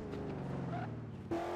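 Engine drone of a car driving in Garry's Mod DarkRP, a steady mid-level hum that shifts pitch and swells louder near the end, with no talk over it.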